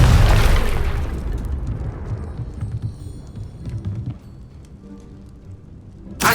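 A Confringo fire spell exploding in Hogwarts Legacy, one loud booming burst at the start that rumbles and fades over several seconds, followed by a sharp pop at the end.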